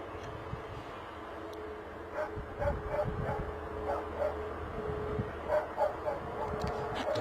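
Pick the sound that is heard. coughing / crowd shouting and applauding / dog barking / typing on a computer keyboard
dog barking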